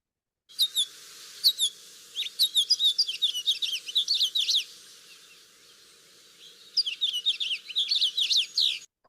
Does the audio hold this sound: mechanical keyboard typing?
no